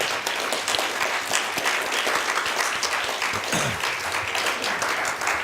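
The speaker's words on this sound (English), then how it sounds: "Give a round of applause for Bob Hoffman and Craig Maloney." Sustained audience applause at a city candidate forum in Pasco, steady dense clapping from a room crowd throughout, fairly close and even in level with no speech over it.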